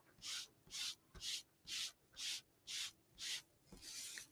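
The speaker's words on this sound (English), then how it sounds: "I'm going to start rubbing Tranquil Teal down" Teal ink rubbed by hand across an embossed snowflake stencil makes eight evenly spaced, breathy scrubbing strokes, close and soft, each a short swish followed by a brief pause, with no voice.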